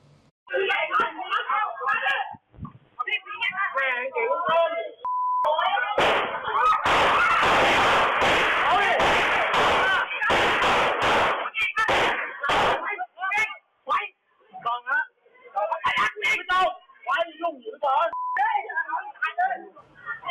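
Sharp loud bangs burst in a dense cluster through the middle, gunfire exchanged outside a bar in Thailand, framed by someone talking before and after.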